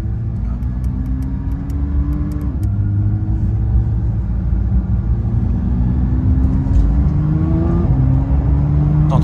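A fine car's engine pulls steadily under load, its pitch climbing in long sweeps that break at each gearbox shift, a loud continuous drone with no talk over it.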